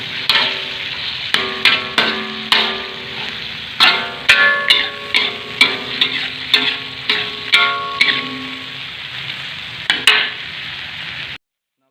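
Tempe stir-fried in a pan over low heat gives a steady sizzle punctuated by a dozen or more sharp metallic knocks of a spatula against the pan, close and loud, stopping abruptly.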